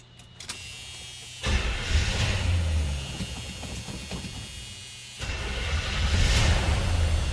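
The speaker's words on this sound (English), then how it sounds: "Let's go ahead and fire this up so you can hear it run." A 1978 Checker A11 taxi cab engine cranks, catches and runs with a broad, rough roar that swells and settles into a steady idle, close by and without talk.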